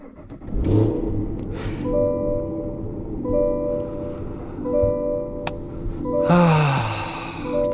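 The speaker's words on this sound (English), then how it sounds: "The cold start in the Blackwing is just fantastic." Cadillac CT5-V Blackwing engine cold start: a sharp starter whirr and loud bark, then a rumbling high idle that rises again in a second revving flare near the end.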